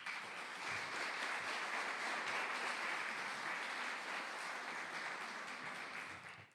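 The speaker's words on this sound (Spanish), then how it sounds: "Denle un aplauso al Rey." Distant, steady applause from a church congregation, a soft, even wash of many hands clapping that holds for several seconds and then tails off.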